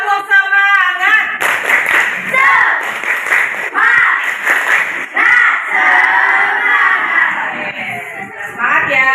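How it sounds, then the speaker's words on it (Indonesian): Schoolchildren in a classroom clap in quick rhythmic bursts together with a loud chanted group cheer. A teacher's voice opens the routine before the class joins in with repeated clap-and-shout phrases. "Yuk, tepuk semangat."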